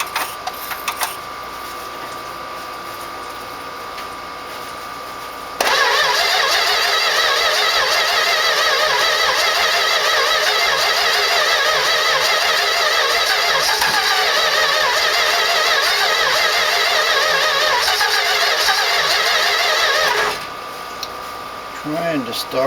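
A 1969 Plymouth Road Runner engine cranking over on the starter, trying to start: a loud, steady whirring crank lasting about fifteen seconds, preceded and followed by quieter idle background.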